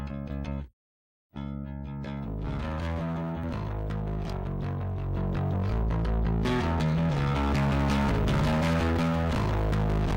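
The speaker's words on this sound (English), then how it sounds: "now let's blend some distortion into the mix" Electric guitar running through a free amp simulator with distortion blended in, a brief silence and then sustained, gritty chords and notes that thicken and brighten partway through, loud and without talk.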